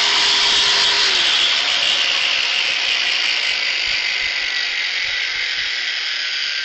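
A grinder acting as a power load runs at a steady, loud, high-pitched whine with a faint rubbing hiss underneath. The sound holds constant throughout and no one talks.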